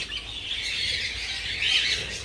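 A flock of parakeets chirps and squeals together in a continuous, fairly faint high chatter, with no talking over it.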